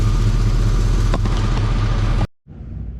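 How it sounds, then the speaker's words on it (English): A Chevrolet C-10 pickup truck engine runs loudly and steadily at idle nearby, then cuts out abruptly, leaving a quieter, muffled hum. "I know the truck is a little noisy"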